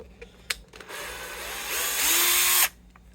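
Some quiet clicks, then a power drill spins up close and loud, rising in pitch for about two seconds before cutting off, used to remove parts from a 1974 Les Paul Custom guitar.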